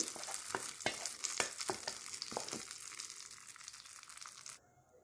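Urad dal frying in a pan for a tomato-coriander chutney, a steady close sizzle with crackles and stirring clatter, then cutting off abruptly near the end; no talking.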